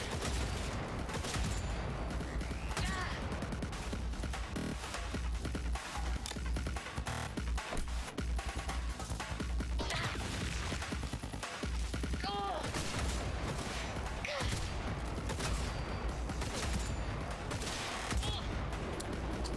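A firefight in the video game Cyberpunk 2077 unleashes dense, continuous gunfire: rapid overlapping shots and bursts crackle without pause, loud and close throughout the scene.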